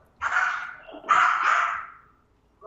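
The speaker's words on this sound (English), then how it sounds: "It's very loud for a small dog." A small dog barks loudly indoors in two drawn-out, yappy outbursts, close to the microphone, with a brief pause between them and no talking over the noise.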